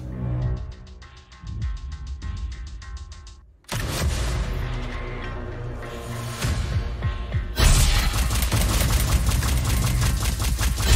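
Turrets in the video game Silverwing fire loud rapid bursts, first as a metallic rattle and then as dense, continuous booming volleys that build toward the end.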